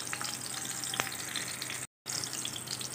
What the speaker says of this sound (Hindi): बस इस तरह ये सारे फ्राई हो जाएंगे।